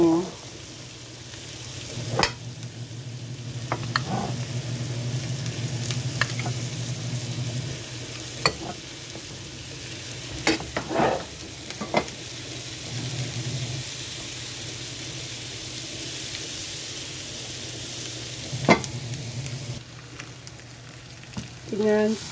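Tofu frying in a pan for spicy tofu sisig, a steady close sizzle with repeated sharp scrapes and clacks of a utensil stirring through it.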